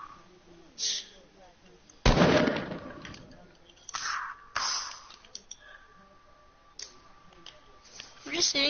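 Gunshots fire in a team-based shooter video game, a loud broadband blast near two seconds followed by several sharper, shorter shots spaced irregularly across the clip, with quieter game noise between.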